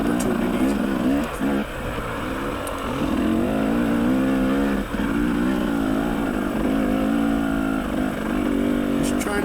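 A dirt bike engine revs and pulls continuously during a tight, technical hare scramble race at Beaver Ride Park, droning close and loud throughout with shifting throttle pitch and no pauses.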